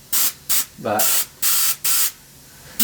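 An airbrush or spray gun hisses out chocolate brown leather dye in five or six short, sharp bursts with brief pauses, close up, while someone speaks briefly between sprays.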